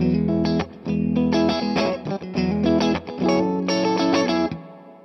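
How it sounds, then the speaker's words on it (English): An electric guitar strums chords through a Train Wreck Express-style tube amp and Ratajczyk Xpress Reverb, drenched in lush reverb, loud and alone, with the last chord ringing out into a fading tail. "That reverb is so lush."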